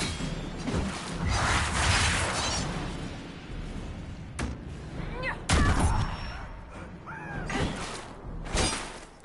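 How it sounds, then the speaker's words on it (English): Gunfire and explosive booms in the video game Dragon Age: Inquisition, with bursts of sharp cracks, whooshes and rumbling impacts spread across a noisy battle soundscape. "I did not like that gunfire."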